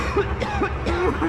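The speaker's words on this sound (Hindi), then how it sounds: "उसे भी खांसी आनी शुरू हो गई थी।" A man coughs repeatedly in short, rough bursts while choking inside a mine, the fits close and mid-loud over a low, murky backdrop.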